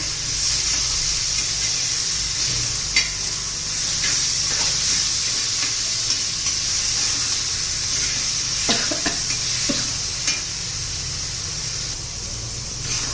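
Roasted eggplant bharit being stirred in a pan makes a steady, fairly loud hiss throughout, with a few soft scrapes and taps from the spoon against the pan.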